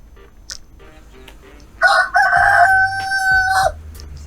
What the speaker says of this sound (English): This is the rooster sound.